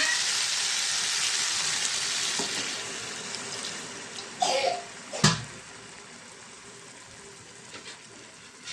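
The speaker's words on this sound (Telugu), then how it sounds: "కొంచెం వాటర్ వేసుకున్నామండి దీంట్లోని." Water is poured into a pan of drumstick curry cooking with chili powder. A steady frying sizzle runs throughout, two sharp splashing bursts come midway, and the sizzle then settles quieter.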